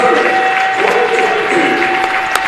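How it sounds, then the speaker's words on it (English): Crowd in a gym applauds the Anderson Ravens women's basketball team after a conference championship game, a loud, continuous wash of clapping with some cheering mixed in, plus a steady tone running underneath. "Ladies and gentlemen, a round of applause for the Anderson Ravens of runner for the tournament"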